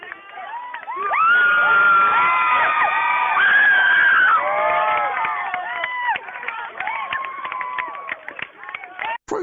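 A large crowd cheers, whoops and shouts in loud, sustained bursts that swell early and stay dense, with individual high voices ringing out before the noise thins toward the end.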